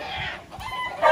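A chicken up in a tree at a Hawaii fishing spot gives a few close clucks and squawks, ending in a louder burst, with no talking.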